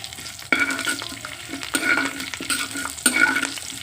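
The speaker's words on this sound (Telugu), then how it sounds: "ముందుగా అయితే పోపులు వేసేస్తున్నానండి" Tempering of mustard seeds, cumin, curry leaves and urad dal frying in hot oil, bursts of sharp sizzling and spattering that flare up in repeated waves as the spices are stirred, close and loud.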